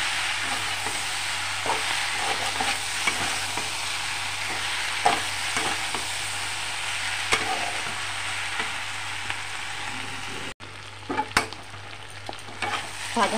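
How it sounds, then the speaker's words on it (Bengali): Food frying in a pan is stirred with a spatula: a continuous sizzle with scattered scraping and clacking strokes, briefly interrupted near the end before the frying resumes. "আবার নাড়াচাড়া করে নেব"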